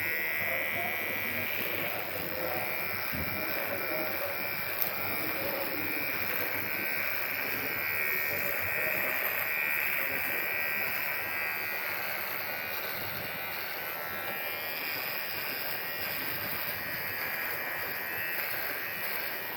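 A nearby electric hair trimmer buzzes steadily for the whole stretch, one continuous even drone with no breaks.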